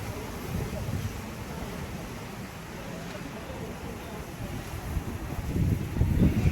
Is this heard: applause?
no